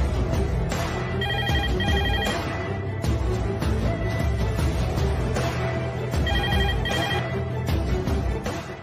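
A telephone rings in a Telugu TV drama as a call is placed to a police station, two short bursts of electronic ringing tone heard over steady background music.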